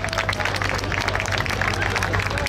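A crowd applauds parachutists at an air show, steady sustained clapping with some crowd murmur, moderately loud throughout.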